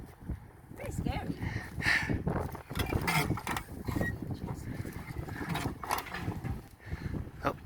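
A hand winch at Stock Route Well 19 on the old De Grey stock route winds a bucket up the shaft. Steady mechanical creaking and ratcheting continues throughout, with people talking over it.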